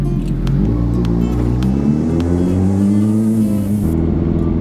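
A Suzuki GSX-R motorcycle engine revs and rumbles close by, its pitch rising and falling as it accelerates for a few seconds with no one speaking.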